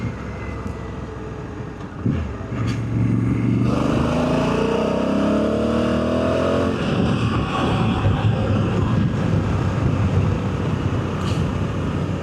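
A 2024 Africa Twin motorcycle with an aftermarket Termignoni exhaust rumbles at idle, then revs up with a rising, rasping roar before settling back to a throaty idle, close by.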